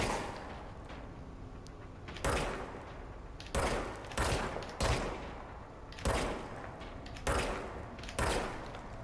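Gunfire from the video game Control, loud single shots and short bursts fired at irregular intervals, about seven sharp blasts each trailing off into echo over a low ambient hum, with no talking.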